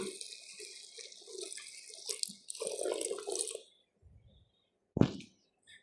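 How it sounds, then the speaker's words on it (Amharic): Water is poured into teff flour in a kitchen bowl to make injera batter: a few seconds of splashing and trickling, a pause, then one short sharp splash near the end. "ከዛ ውሃ ነው የማደርግበት ማለት ነው።"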